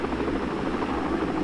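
Helicopter (chopper 136) flying steadily overhead, a dense continuous rotor and engine drone with no break, fairly loud and constant throughout.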